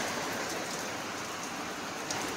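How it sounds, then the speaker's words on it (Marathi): Heavy rain falling in a steady dense wash of drops, close and continuous throughout with no voices. "आता बघा इकडे इतका पाऊस सुटला आहे बापरे."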